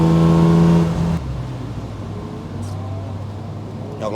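BMW E36 engine revving hard on a track with an overheating, failing clutch, a loud sustained rev that drops off abruptly, then a lower steady drone with faint speech.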